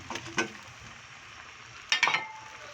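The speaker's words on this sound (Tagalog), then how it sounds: "dahil kulo na yung gata, pwede mo nang ilagay yung pinaritong isdang tuna" Fried tuna pieces go into boiling coconut milk, giving two short bursts of sizzling and splashing with a faint stir, separated by a quieter bubbling stretch.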